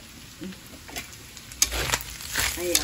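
Meat frying in a pan for batchoy, a crackling sizzle building up with occasional stirring scrapes, close by and moderately loud.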